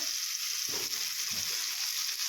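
Eggplant and potato curry frying in a pan, a steady soft sizzle throughout with a couple of faint stirring scrapes, close and alone.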